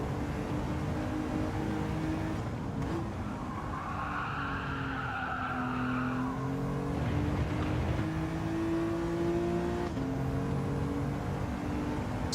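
Tires squeal in Gran Turismo 7 lobby racing, a long wavering screech over a steady engine drone that rises and falls across several seconds as the car slides through corners, loud and close with no talk.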